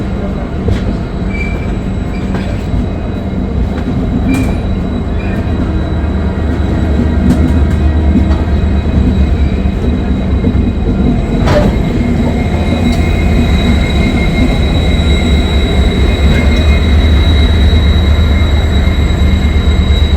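The 12821 Dhauli Express, heard from inside an AC chair car, runs at top speed with a loud, continuous rumble of wheels on rails, faint rhythmic clicks and occasional squeals.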